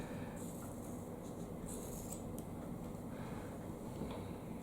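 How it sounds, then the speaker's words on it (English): Scissors snip through hair during a home haircut, giving a few soft, crisp cutting bursts close by over a faint steady background. No one speaks. "Oh, that sound of hair being cut."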